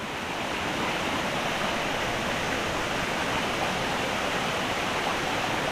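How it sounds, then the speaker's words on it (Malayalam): Water cascades down two or three stone steps at Chennad Malika in Vengathanam, Kottayam, a steady, loud, unbroken rush that continues for the whole stretch. "ഇവിടെ നമുക്ക് ആ വെള്ളം താഴോട്ട് പമ്പ് ചെയ്യുന്ന കാണാവേ"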